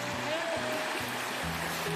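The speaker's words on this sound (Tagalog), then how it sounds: "Rinig yung alon. Medyo malakas siya." River water running and lapping over rocks, a steady rushing wash in the background with some low rhythmic thumps, as a person talks.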